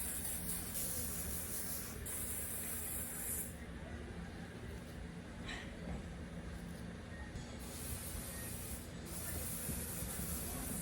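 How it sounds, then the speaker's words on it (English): A can of hairspray hisses in long, steady bursts onto hair, several sustained sprays separated by short pauses, close and fairly loud. "So I'm spraying and then just brushing everything up and back."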